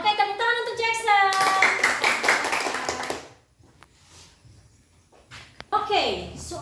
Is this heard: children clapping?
yes